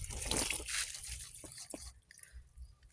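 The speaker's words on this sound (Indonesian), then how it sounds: "Ini kita siram-siram dulu" Grape plants growing in polybags are watered, a close splashing trickle that runs strongly for about two seconds, then drops to a faint dribble with scattered drips.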